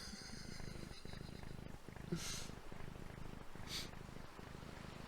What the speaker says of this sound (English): I'm glad I can still hear the purring of the onboard motor.